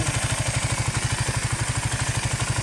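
A Raider 150 Fi motorcycle idles steadily with a fast, even engine pulse, while its radiator fan, stuck running with the key on, adds a continuous whirring hiss over the top, close and fairly loud with no talking.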